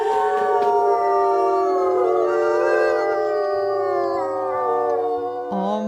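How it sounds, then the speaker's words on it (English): A wolf in the video game WolfQuest lets out a long, loud, sustained howl with wavering pitch that fills the whole stretch, with no talk over it. "Oh my goodness, starting off with a howl."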